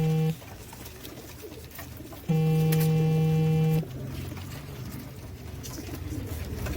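A pigeon's low cooing sounds briefly at the start, then returns louder for a second or so before fading into a steady background hum, among dyed pigeons.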